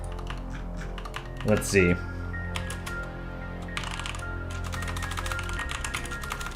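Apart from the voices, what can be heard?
typing on a computer keyboard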